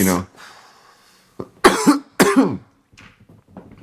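Several harsh coughs burst out in quick succession, close and loud, with a brief throat sound before and a quieter exhale after.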